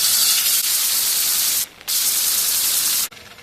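A rock surface is sanded with the next grit, making loud, hissing rubbing strokes in three long passes separated by brief pauses.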